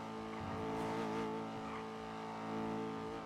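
A car drives by in the GTA role-play game NoPixel, its engine droning steadily and swelling slightly as it passes, with faint tire noise and no clear talk.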